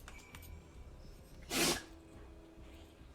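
A dog gives a single short, sharp sneeze at close range, a brief burst standing out against quiet background sound from a Final Fantasy XIV game session.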